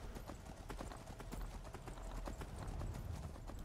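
An armoured horse in Skyrim Anniversary Edition walks along a road, its hooves clip-clopping in a steady, even rhythm, faint and continuous with no voices.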